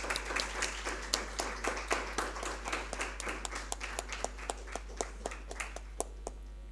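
Audience applause for a speaker at an academic philosophy session on Theravada and Mahayana, Jawaharlal Nehru University, Delhi: steady, sparse-to-moderate clapping from a modest crowd, individual claps distinct, thinning toward the end.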